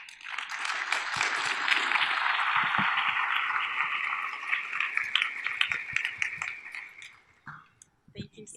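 An audience applauds after a leadership speaker's talk, a dense, sustained wash of clapping that gradually thins and fades toward the end, with some voices mixed in.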